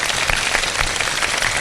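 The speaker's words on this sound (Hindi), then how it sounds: "बहुत सारी तालियां।" A studio audience on a Ramadan iftar quiz broadcast claps loudly and continuously for a second and a half, a thick even wash of hands with no voices over it.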